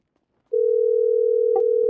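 A Grand Theft Auto V in-game telephone dial tone on the Radmir RP server: one steady, unbroken electronic hum that starts abruptly and holds loud and close, with a faint click near the end and no talking.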